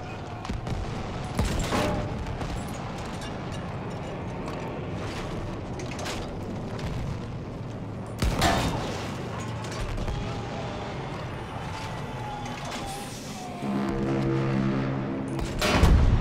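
Gunfire in the video game Battlefield 1, with sharp shots and bursts standing out over a dense, continuous din of battle. The firing is loud and repeated, and heavier blasts and a low droning layer come in toward the end.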